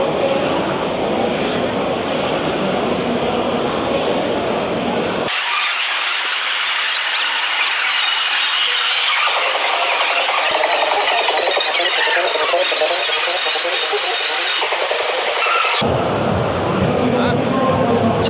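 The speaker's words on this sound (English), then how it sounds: "let's make our way through the crowd a bit more and see what else we can find" Busy crowd ambience at the EICMA 2025 motorcycle show, a steady wash of many voices and hall noise that carries through the whole stretch, with a brief shift in character partway through.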